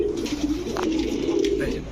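Beauty breed pigeon cooing close by in a low, steady murmur that runs the whole time, with faint background voices.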